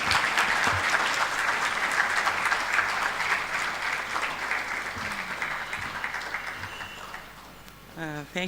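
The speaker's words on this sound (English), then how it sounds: "You sustain the hand clap until she is here." Sustained hand clapping from the audience at a research and innovation symposium, dense and even at first, then thinning and fading toward the end as a voice comes in over it.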